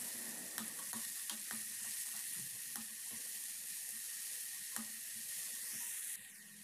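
Onions and tomatoes with cashew nuts cook in a pan, giving a soft, even sizzle with occasional light clicks of a stirring spoon. It is faint and steady, with no talking.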